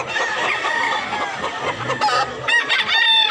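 Chickens cluck busily nearby while roosters crow over them at a chicken market in Mantalungon, Barili, Cebu, a noisy, overlapping barnyard chorus that grows louder toward the end.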